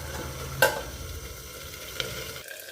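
Eggplant sizzles steadily in a hot pan, crackling close up, with a sharp stir or scrape of the pan partway through before the sound drops off near the end.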